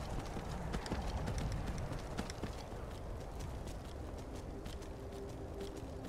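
Horse hooves clip-clop at a steady trot in the video game The Elder Scrolls V: Skyrim Special Edition, close and fairly quiet, over a soft background hum.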